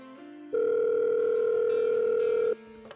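A call to a health line rings out as one steady, loud telephone tone lasting about two seconds, with quieter, lower tones just before and after it and no talking.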